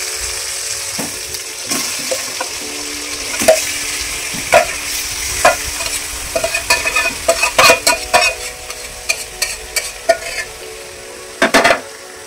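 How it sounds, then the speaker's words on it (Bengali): Chicken pieces stir-fried in a pan with onion and capsicum for biryani, a steady close sizzle broken by repeated sharp spatula scrapes and clatters against the pan, growing busier midway, with no voices. "মাংসটা আমি কষাবো"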